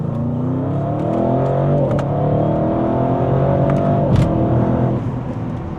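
A 2025 Audi RS 7 Performance in RS mode, its engine revving in a sustained roar that rises and falls across several seconds, loud and close with no talking.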